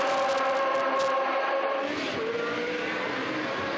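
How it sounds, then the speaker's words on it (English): A historic racing car's engine roars loudly and steadily at the Estoril circuit, its pitch shifting as it sweeps past the pits and grandstands, with a brief rise in intensity midway. "that engine noise reverberating through the grandstands, past the pits"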